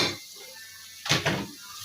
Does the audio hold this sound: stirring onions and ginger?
yes